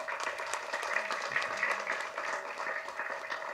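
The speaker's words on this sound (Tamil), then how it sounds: "எங்கள் முதலாளி திரு பிரபாகரன் சார் அவர்களை ஒரு வாட்டி உங்கள் கரகோஷத்தோட" Audience applause rings out at a film launch ceremony for Singanallur Signal, a steady, moderately loud patter of many hands clapping in an indoor hall that runs throughout without pause.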